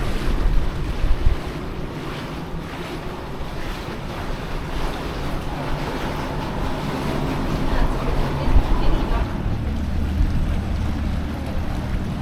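A small dinghy runs across open water in the Exumas, Bahamas, with a steady rush of water and wind buffeting the microphone throughout, loud and close, and no voices.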